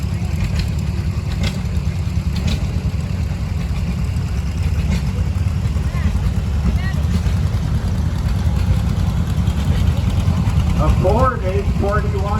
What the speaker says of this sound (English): Bonnie Brewer driving a 1957 John Deere 420.